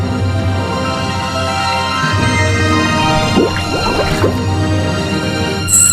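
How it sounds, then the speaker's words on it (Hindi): Someone dives into water in a dubbed Chhattisgarhi comedy folk tale about an honest woodcutter, with watery dripping, gurgling and splashing sounds rising midway over a steady background hum. "ये कह के वरुण देव जी हा पानी में डुबकी लगाई"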